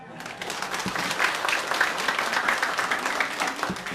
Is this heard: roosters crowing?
no